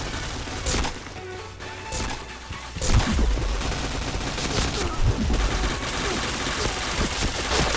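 Rapid bursts of gunfire and headshot hits in the Point Blank online shooter game, dense and continuous with sharp cracks and rattling volleys, while a player's voice calls out over the shooting.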